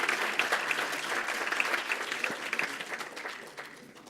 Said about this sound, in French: on applaudit à nouveau Michel pour sa prestation.